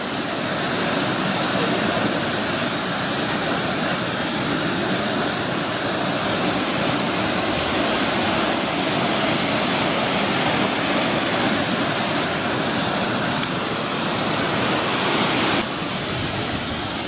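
Stream water at Hanging Lake, Colorado, rushes steadily in a dense, loud, unbroken roar for the whole stretch, with no voices over it.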